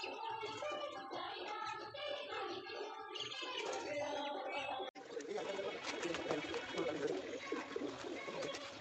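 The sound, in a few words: pigeons cooing and feeding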